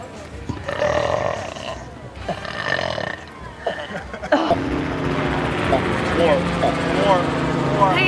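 Loud, drawn-out burps at a burp contest with strangers, several in a row with short gaps, followed by busy background crowd noise and chatter.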